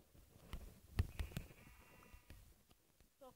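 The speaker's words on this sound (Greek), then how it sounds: "Πρόβατο." Sheep bleating in a video game, a few short bleats over quiet game ambience with no talk.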